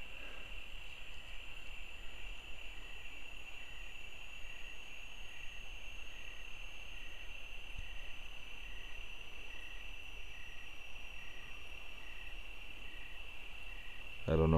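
Crickets chirp steadily through the night in Auburn, California, forming a dense, continuous high trill at an even volume for the whole stretch, with a brief louder noise right at the end.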